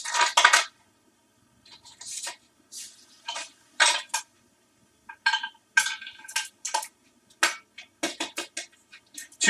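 Ice cubes handled for an air pressure science demonstration, giving a run of short clinking, rattling bursts with brief pauses between them, close and fairly loud, with no talking.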